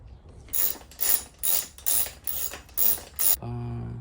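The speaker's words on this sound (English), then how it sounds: "once it's all in place, I'll torque it down, get it all nice and tight" Torque wrench ratcheting bolts on a Commencal Clash bike frame, seven loud close bursts of rapid clicking in an even rhythm, then a short metallic ring.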